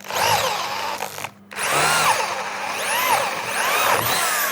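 A Dongcheng DJZ10-10 electric drill with a speed bit whirs loudly and steadily, dropping out for a brief pause and then spinning back up, its pitch rising and falling as it bites.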